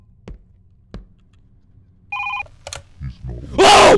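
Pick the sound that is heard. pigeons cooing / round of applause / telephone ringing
telephone ringing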